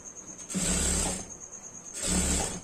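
A sewing machine stitches the fabric lining of a long frock, running in two loud bursts of about a second and a half each, separated by a quieter pause, with a steady high whine throughout.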